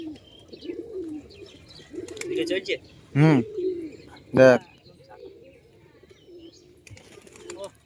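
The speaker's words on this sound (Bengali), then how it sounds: "ও সত্যি পায়রা ভাই এটা পায়রা" High-flyer pigeons coo in two distinct, close calls amid soft chirps and background murmuring, with people talking nearby at a home pigeon loft.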